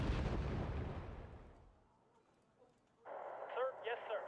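Mortar fire in the real-time strategy game Wargame Red Dragon lands as a heavy, booming blast that fades over about a second and a half, after which a voice cuts in over radio-like game audio.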